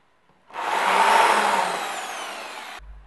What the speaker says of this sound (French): on va fraiser chaque emplacement.